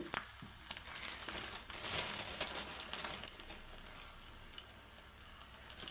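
Mustard seeds and cumin sizzling in hot coconut oil in a pan, a steady close crackle and hiss with scattered sharp pops from the seeds, fairly quiet and continuous throughout.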